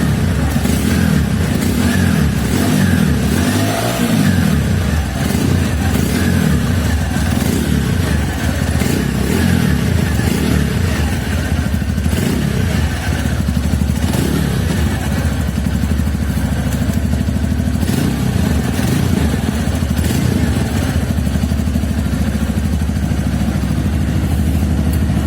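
A TVS Radeon BS6 2020 motorcycle engine runs loud and close through its silencer, holding a steady throbbing idle with a brief rev and mechanical clatter, no talk over it.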